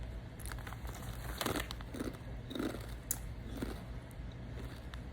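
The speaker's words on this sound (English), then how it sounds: "I like the kettle cooked chips just because they be thick and crunchy." Crunchy, thick kettle-cooked potato chips being chewed up close at lunch, a run of soft irregular crunches and crinkles over a steady low background hum, with no talking.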